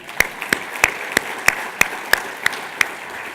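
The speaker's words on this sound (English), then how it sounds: "Can we give her a big applause?" About ten sharp, evenly spaced claps ring out in a steady rhythm at an industry conference's opening remarks, crisp and fairly close, with no talking.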